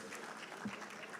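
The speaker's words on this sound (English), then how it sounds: "Now, a round of applause for him for managing our time very well." An audience at the Nigerian Society of Engineers conference claps together, a soft, continuous patter of applause heard from a distance for just over a second.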